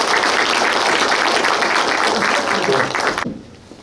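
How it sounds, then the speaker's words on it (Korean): A crowd at a township ceremony with flowers being presented claps in a thick, even wash of applause that cuts off sharply after about three seconds. "네, 큰 박수 부탁드리겠습니다."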